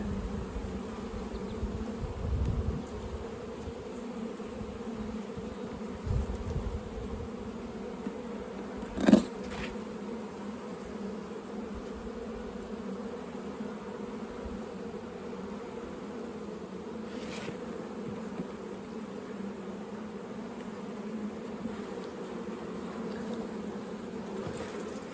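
A continuous, droning hum of many honey bees buzzing close by in a bee yard as frames are worked, with a few faint knocks and thumps over the steady swarm noise.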